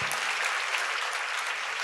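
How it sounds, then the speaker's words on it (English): Audience applause at a luncheon keynote, a short, even burst of many hands clapping, dense and continuous with no voices over it. "give yourselves a round of applause for that"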